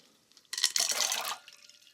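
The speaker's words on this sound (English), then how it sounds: "we're going to take some ice cubes, and we're going to put them into a bowl of water" Ice cubes are dropped into a bowl of water, giving a brief close splash and sloshing burst lasting under a second before settling to quiet.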